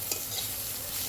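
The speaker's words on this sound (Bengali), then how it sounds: "এবার চিংড়ি মাছগুলো ভাজা হতে যা সুন্দর রংটা খুলছে" Shrimp fry in a pan over a village wood-fired stove, a steady close sizzle with a brief scrape of stirring near the start and no talking.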